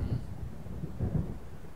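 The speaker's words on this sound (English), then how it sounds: "It seems there's a storm coming." A low, rolling rumble of thunder from a storm moving in over the lake in the video game Alan Wake, a soft, steady roar that carries on without any voices.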